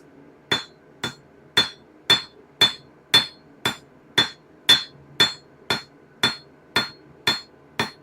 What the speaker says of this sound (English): we're going to continue working on this side of the anvil on this side because I lost a lot of heat during that first area